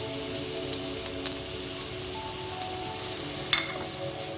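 Chopped onions dropped into hot garlic oil in a pan give a steady, soft sizzle with a faint crackle, continuous and fairly quiet throughout, with a single brief clink near the end.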